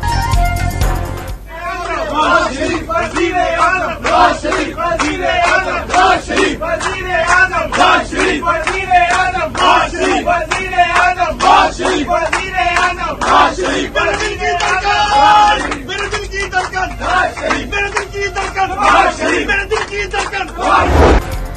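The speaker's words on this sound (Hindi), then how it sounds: "कराची से जाने वाले साबिक गवर्नर सिंध मोहम्मद जुबैर की ट्रेन में नारों की वीडियो भी वायरल" A packed crowd aboard a train carrying former Sindh governor Mohammad Zubair chants political slogans in loud, rhythmic bursts of many voices shouting together, close and continuous throughout.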